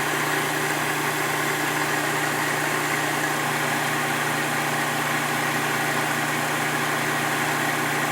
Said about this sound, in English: this is spinning at 1770 RPM, and this is producing electricity right now